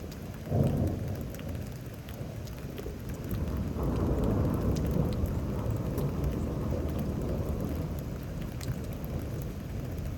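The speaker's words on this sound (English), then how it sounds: "I'm gonna suggest the lightning stuff kicking up as I'm talking about it" Thunderstorm near Houston, Texas: low rolling thunder rumbles swell and fade over steady hissing rain falling on surfaces, continuous and moderately loud with no talk.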